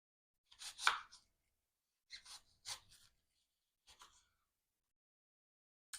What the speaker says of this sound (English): So I'm going to go ahead and cut up all of these apples.